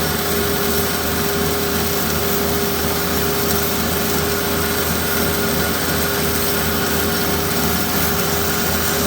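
A dual column metal-cutting bandsaw with coolant cuts steel under heavy clamping force, giving a steady, loud mechanical whir and grinding drone that runs unbroken from start to finish.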